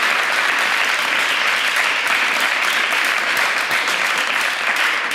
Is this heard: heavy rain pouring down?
no